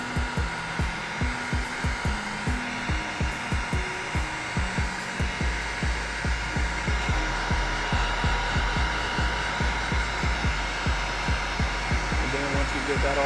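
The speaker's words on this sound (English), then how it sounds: "I tend to heat it up with a heat gun as well, just to make sure that the vinyl is separated from the paint" A heat gun runs continuously while warming vinyl stencils on painted Nike sneakers, a steady blowing hiss under a fast, regular series of rhythmic thumps or pulses throughout.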